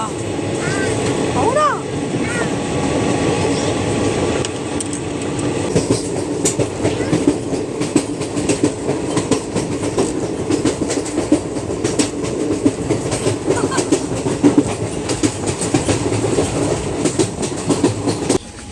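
A train rolls steadily along the rails with rhythmic clicking and a constant rumbling hum, heard from inside a third-class AC carriage, with a voice briefly at the start.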